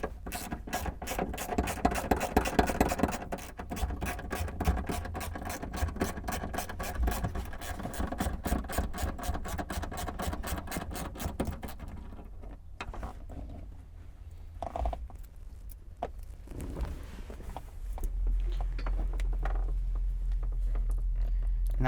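Ratcheting wrench backing out a size 10 bolt beneath a Honda Civic rear seat: a long steady run of rapid clicks and scraping, then quieter intermittent clunks and handling noises, close up with no talk.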